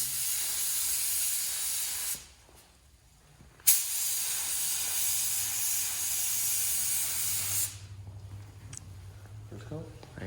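An aerosol can sprays paint in a first coat, making a loud, close hiss in long bursts separated by short pauses, with faint background noise between them.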